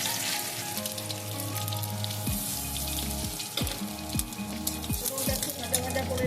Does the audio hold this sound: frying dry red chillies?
yes